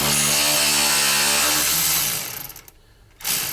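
A wrench spins a 15 mm nut off GM truck steering linkage with a close, loud whirring whine that runs for about two seconds, then sputters and stops before a short final burst.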